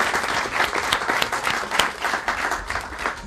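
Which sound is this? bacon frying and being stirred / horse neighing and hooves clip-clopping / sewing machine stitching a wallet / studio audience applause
studio audience applause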